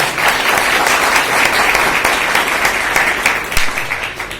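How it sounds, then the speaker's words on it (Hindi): Loud, dense applause from a large audience welcoming a guest at a motivational speech event, steady and sustained throughout with sharp individual claps peppered across the crowd. "तो इसलिए एक बार जोरदार तालियों से बजाकर उनका वेलकम, अभिनंदन किया जाए मिस्टर संजीव सर का।"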